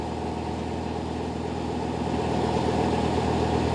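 An old engine on a canal fuel delivery boat runs with a continuous, steady low chugging, moderately loud and close by, with no speech over it.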